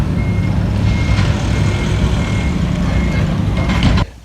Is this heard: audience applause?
no